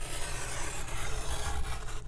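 A paper cutter blade pulls through a thick stack of paper, giving a steady, close rasping scrape that runs evenly for about two seconds.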